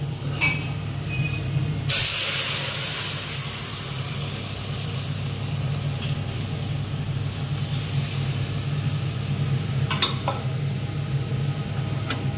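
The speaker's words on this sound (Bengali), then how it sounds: "এবারে ডালটাকে ছুঁকে দেব" Hot tempering of dried chilli and garlic is poured into pea lentil dal, a sudden loud sizzle that settles into a long steady hiss, with faint clinks partway through.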